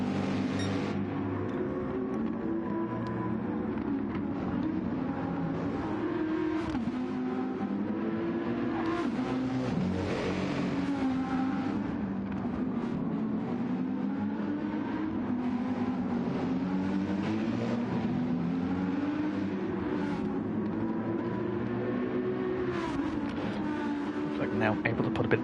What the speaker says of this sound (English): Now able to put a bit of distance between himself and Odon's AMG